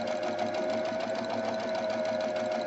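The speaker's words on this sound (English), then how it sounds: "I'm going to sew this" A sewing machine runs steadily while stitching ribbon, a continuous close whirring hum with a fast even needle rhythm and no talking.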